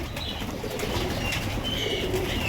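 Pigeons coo and flap their wings nearby, soft repeated cooing mixed with brief bursts of wingbeats over a steady background hiss.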